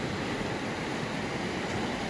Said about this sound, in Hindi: अभी पानी थोड़ा शांत चल रहा है।